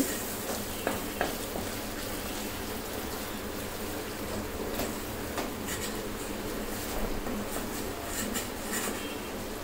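Egg and potato curry masala fries in a pan while being stirred, giving a continuous close sizzle with intermittent scraping strokes and no voices.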